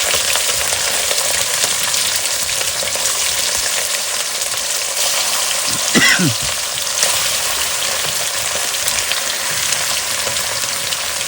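A loud, continuous sizzle of fish frying in a pan of oil for a mustard hilsa dish, steady throughout with a brief clatter of a utensil midway.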